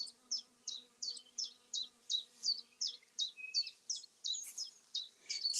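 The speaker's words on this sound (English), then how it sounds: "It's honeybees. There's another honeybee just there." Honeybees near Hadrian's Wall produce a steady series of short, bright buzzes that pulse roughly twice a second, each brief and close. A low hum runs underneath and no one speaks.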